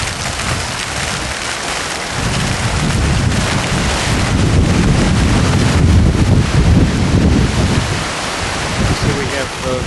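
Small waterfall on La Sierra University campus, a dense steady rush of splashing water that swells slightly midway, heard close up.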